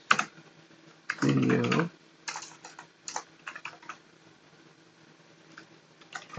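Typing on a computer keyboard in a quiet room, a dense burst of rapid clicks followed by scattered short clusters of keystrokes, close and clear, with a brief muffled word spoken.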